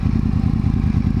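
Yamaha R1 sports motorcycle engine running in congested traffic, a brief, loud, steady low rumble with a slight clattering throb.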